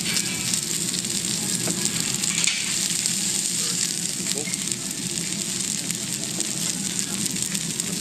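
Salmon cooking on a hot grill makes a loud, continuous close-up sizzle and crackle that holds steady from start to finish.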